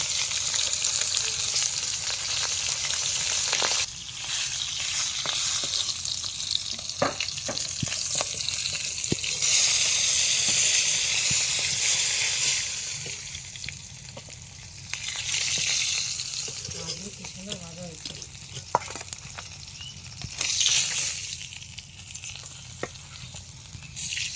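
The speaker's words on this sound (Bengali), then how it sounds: "আমার ঢাকনাটা উঠাতেই ভয় লাগছে এত মাছটা ফুটছে" Boal fish curry bubbling and sizzling in a covered pot over a village cooking fire, a steady loud hissing simmer running throughout with occasional clinks and stirring.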